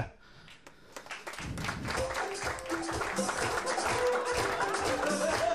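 Comedy-show crowd applauding and cheering the DJ as he is introduced at a French comedy night, clapping swelling after a quiet start and staying loud, with a few chuckles and voices mixed into the noise.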